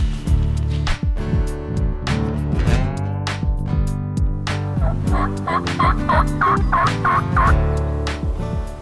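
Wild turkey toms gobble repeatedly and loudly, several rattling calls overlapping and echoing one after another with no talking.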